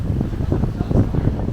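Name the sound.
strong wind at Seminyak Beach, Bali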